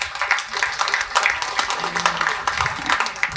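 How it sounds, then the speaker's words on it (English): Live comedy-special audience clapping in a broad, steady wash that swells and recedes in waves, with scattered louder hand claps standing out and faint crowd voices mixed underneath. "Do your favor, clap if you have student loans."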